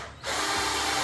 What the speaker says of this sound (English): I'll go ahead and put the rest of the screws